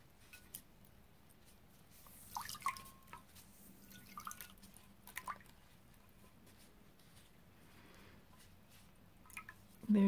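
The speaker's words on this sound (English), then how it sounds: "So I'm going to squeeze this out into my rinse bucket." Water drips and squishes as dyed cotton sliver is squeezed out into a rinse bucket, a faint, scattered patter of small splashes with a few brief louder drops against quiet background.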